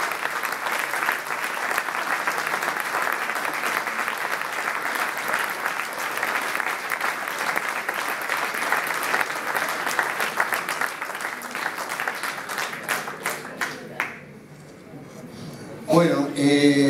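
A meeting audience gives a long, sustained round of applause for an outgoing official, dense and even clapping that thins out and stops near the end, followed by a voice starting to speak.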